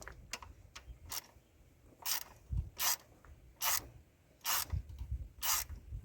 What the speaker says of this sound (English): those two bolts, this one and this one, we're going to go on and remove those